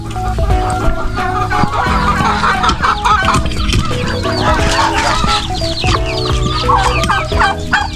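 Chickens cluck and chatter nearby among turkeys, overlapping calls from several birds forming a busy, continuous flock noise with occasional louder squawks.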